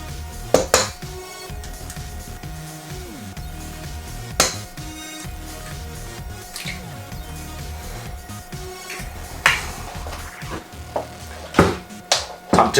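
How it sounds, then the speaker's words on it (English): Egg is whisked into a chocolate biscuit cake mixture in a bowl, with a steady scraping, clinking rhythm of utensil against the dish and occasional sharper knocks. "time to add my egg and whisk this thing up"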